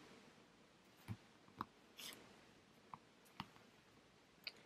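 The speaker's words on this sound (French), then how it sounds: "J'aime pas du tout ces ciseaux." Several sharp, quiet snips of scissors spaced irregularly, close up in a very quiet room with no talking.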